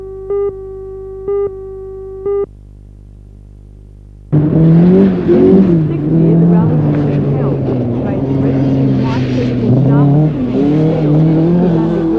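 Rally cars race at an Australian rally event in 1985, their engines revving loudly with rising and falling pitch after three short electronic beeps and a brief quiet gap.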